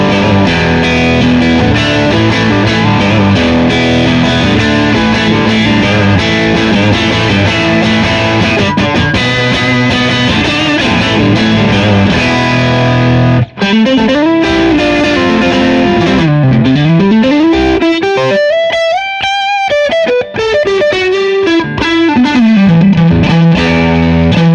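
A 1954 Fender Stratocaster electric guitar played on its neck pickup rings out loud with distorted, effect-laden sustained notes and sweeping string bends, alone with no voices.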